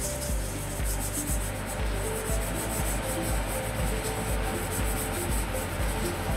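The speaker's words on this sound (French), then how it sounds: "je vais me nettoyer les mains avec le surfacé" Hands rubbed briskly together with disinfectant before handling cell cultures in a lab, a steady close swishing friction that runs continuously without a break.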